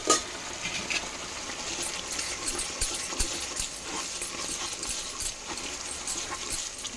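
Homemade masala powder is tipped into a hot pan, giving a steady close sizzle with scattered clicks and scrapes of a utensil stirring against the metal.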